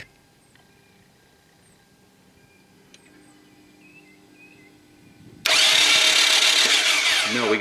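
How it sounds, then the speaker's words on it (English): The starter motor of a 320,000-mile Toyota Camry with several failed ignition coils cranks the engine. After several seconds of quiet shop noise it bursts in suddenly, loud and close, and keeps grinding steadily without the engine firing. "I'm gonna let it crank once more and double check this."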